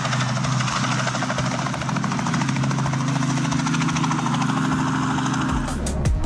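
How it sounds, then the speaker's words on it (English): A helicopter's steady rotor drone and thumping blade chop hold loud and close throughout, then break off abruptly near the end with a brief clattering burst as it strikes power lines. "A helicopter colliding with power lines looks dangerous."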